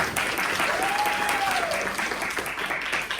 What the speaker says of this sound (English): So let's give a big round of applause to Sarah.